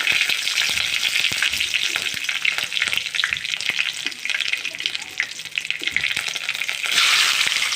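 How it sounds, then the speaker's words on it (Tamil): Mustard seeds and curry leaves frying in hot oil for a whole-brinjal coconut-milk kuzhambu, giving a steady bright sizzle with scattered pops and crackles throughout, swelling louder near the end, with no voices. "எண்ணெய் ஊற்றி கடுகு போட்டு கருவேப்பிலை போட்டாச்சு கருவேப்பிலை வதங்கட்டும்"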